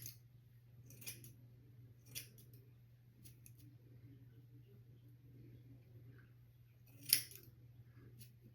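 Scissors trim a men's hair unit in a quiet room, with a few soft, separate snips spread out over a faint hum and one sharper cut near the end.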